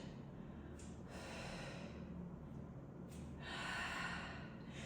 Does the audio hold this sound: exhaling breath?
yes